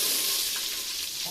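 Curry leaves crackle and sizzle in hot oil in a pan, a dense continuous bright frying hiss, close and fairly loud with no voices.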